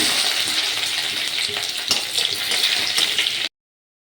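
Chopped garlic frying in hot ghee in a kadai for a dhaba-style egg tadka: a loud, dense, continuous sizzle and crackle heard up close, with faint stirring scrapes, ending abruptly in silence.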